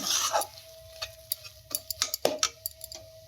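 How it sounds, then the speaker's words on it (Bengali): A spoon scrapes and taps in a pan as a mixture is stirred and dry-roasted for kachori filling, giving a quick series of irregular clicks over a faint steady hum, with no talking. "ভালো করে নাড়াচাড়া করে শুকনো করে নিতে হবে"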